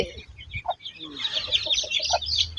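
Chickens on a farm clucking in short, close calls, with busier chatter from the flock building over the second half alongside a soft voice.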